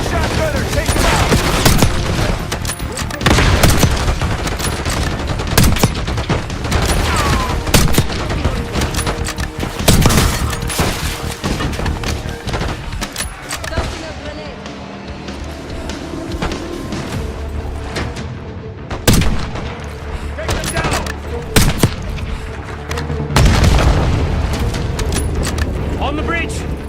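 Intense gunfire in a Call of Duty: Black Ops 6 cutscene at a bridge: rapid automatic bursts, single shots and booms roll on throughout a long battle, with voices talking over the fighting.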